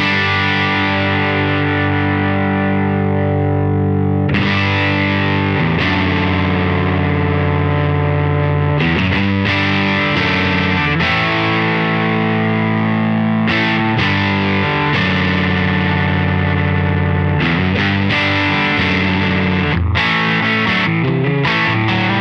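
An electric guitar, a Gretsch Mendocino fitted with Righteous Sound R-Top pickups, plays through an Electronic Audio Experiments The Bard pedal, giving loud, sustained distorted chords that ring out and are re-struck repeatedly, with no voices.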